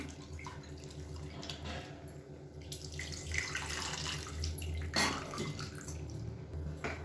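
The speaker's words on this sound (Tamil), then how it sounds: "இப்போ இதை கரைச்சிட்டு இந்த புளி தண்ணியை சேர்த்துக்கலாம்." Tamarind water is poured into a pot of garlic rasam in a home kitchen, a continuous liquid pour and splashing with a few drips, fairly faint and close, without speech.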